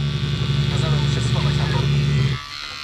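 A power inverter in a camper van parked on a wintry coast gives off a steady, close electrical hum with a low buzz. It runs evenly, then cuts off abruptly near the end, leaving quiet background.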